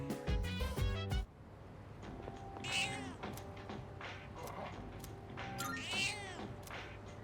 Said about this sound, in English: Let's go feed that cat.